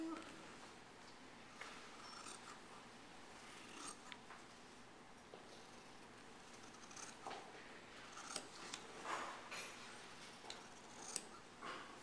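Fabric scissors snip along the folded crease of cloth, producing a faint, quiet series of scattered crisp cuts and rustles against a low room hum.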